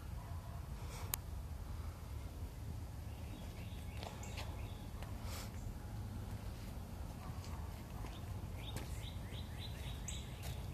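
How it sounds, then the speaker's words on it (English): Faint birdsong outdoors, scattered chirps and short calls rising over a low steady background hum, distant and soft, with no voices. "hear the birds sing, just beautiful."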